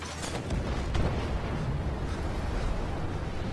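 A tank main gun firing in Armored Warfare, with a couple of heavy booming shots early on followed by a rumbling, sustained roar of battle noise, close and loud.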